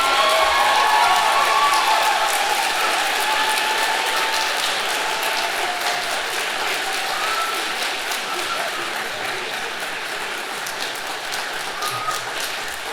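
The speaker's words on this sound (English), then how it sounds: "let's clap again because Colleen's amazing" Audience clapping at a college meeting and awards ceremony, a steady dense patter from a roomful of people that gradually thins and softens over about thirteen seconds.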